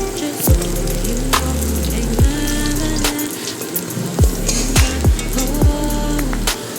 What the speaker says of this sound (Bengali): রসুনটিকে এবং লঙ্কা ততক্ষণ অবধি ভাজতে হবে যতক্ষণ না গোল্ডেন ব্রাউন কালার হচ্ছে